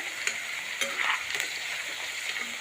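Ivy gourd (gilodi) frying in a pan, a steady broadband sizzle with a few brief clatters of stirring, moderately loud and continuous with no voices.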